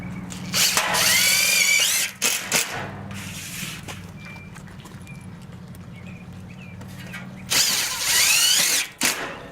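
Power drill driving screws into 18-gauge steel studs: two loud, close whirring bursts of a few seconds each at the start and end, with a few brief shorter runs and quieter background between.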